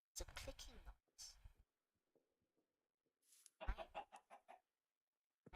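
Chickens in the Minecraft video game give a few faint, short clucks and clicks during a quiet gap between bursts of speech.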